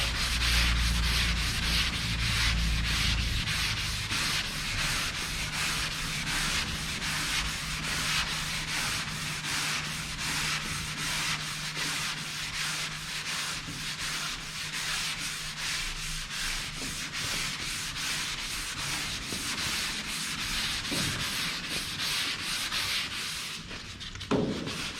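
Continuous close sanding rubs out a scuff on the side of a Chevrolet Biscayne car, a steady abrasive scratching that runs without pause for the whole stretch before cutting off near the end.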